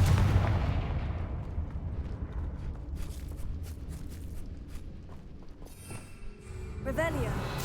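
Spell blasts from the Confringo fire spell in Hogwarts Legacy, a dense barrage of booming impacts and crackling bursts over a rumbling low end, continuous and loud, with sharper magical whooshes near the end.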